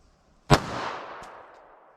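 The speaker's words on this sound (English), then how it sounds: "Let's see how close we get to 945 feet per second from my Smith & Wesson Shield EZ here." A single sharp report from a Smith & Wesson Shield EZ pistol firing .22 LR Aguila Interceptor ammunition outdoors, close and loud, followed by a long decaying echo and a faint secondary click.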